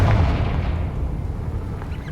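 A Confringo spell explosion in Hogwarts Legacy bursts with a loud, low booming blast that rolls and decays into a rumbling tail, close and dominant with no talk over it.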